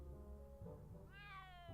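A cat in the Back to the Future video game gives one close, clear meow with a rising then falling tone, following a low sustained musical drone with no talk.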